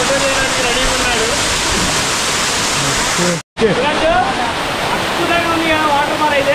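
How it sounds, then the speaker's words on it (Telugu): Katiki waterfall near Araku, Visakhapatnam, rushes in a loud, steady roar of falling water close by, with a brief dropout midway and voices faintly audible under the noise. "అద్భుతంగా ఉంది కదా వాటర్ ఫాల్ అయితే."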